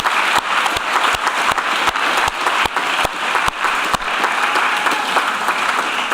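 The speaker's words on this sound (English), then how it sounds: "give yourself a round of applause" Loud, sustained applause from an audience at a debate league event, with a few sharp, close claps standing out rhythmically over the dense crowd clapping.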